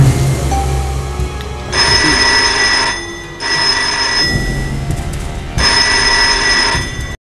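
An old-style telephone bell rings in three loud, near bursts, each lasting about a second, separated by short pauses, over a low hum.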